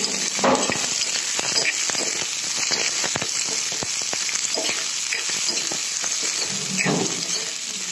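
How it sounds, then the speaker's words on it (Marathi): Chopped onion frying in hot oil with cumin and mustard seeds as a tempering, producing a loud, dense, continuous crackle and sizzle with scattered sharp pops throughout. "आता हे काही कांदा टाकला, जिरे तेल टाकले, ह्याच्यामध्ये जिरे मोहरी टाकली, तडका"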